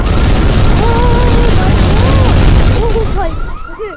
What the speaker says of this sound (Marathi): हा एकदम क्रेझी बॉम्ब होता. Time bomb.